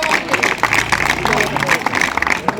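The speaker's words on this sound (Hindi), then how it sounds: "ताली बजता रहना चाहिए" Many people clap together in a fast, even rhythm at a police SDRF disaster-relief training session, the claps loud and nearby over a murmur of voices.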